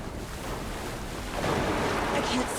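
Water sloshing and surf-like waves wash steadily through a tense swim in Alan Wake 2, a broad rushing noise that swells slightly louder toward the end, with no voices.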